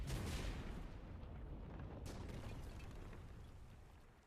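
A powder keg blows up in the video game The Bazaar, a deep rumbling boom that rolls on and slowly fades away over several seconds.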